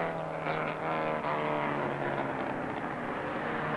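Small sports racing cars, Lotuses, Elvas and Porsches, roar around the tight Westwood circuit, a continuous engine drone with rising and falling pitch as cars pass at a moderate distance.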